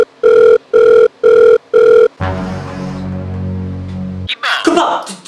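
A mobile phone plays four evenly spaced dial-tone beeps, loud and close, followed by a buzzing electronic tone and then a brief burst of noise.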